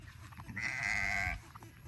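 A single drawn-out bleat from a nearby sheep rises over faint outdoor background noise.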